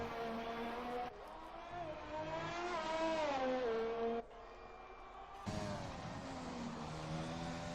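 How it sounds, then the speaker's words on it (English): A race car drives hard through a pair of right-hand corners, its engine snarling loud and close, rising and falling in pitch with gear changes and lifts between bursts of acceleration. "JD really sending the car in there, carrying tremendous speeds through the double right-handers here"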